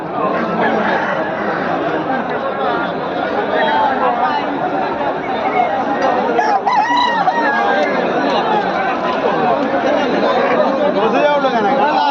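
Roosters crow and cluck among a dense, noisy crowd at a rural cockfighting fair, with constant chatter and voices all around.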